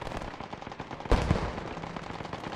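Battlefield gunfire in the WWII shooter Post Scriptum, with rapid machine-gun bursts rattling steadily and a heavy mortar-like blast landing near the middle, all thick and continuous without any voices.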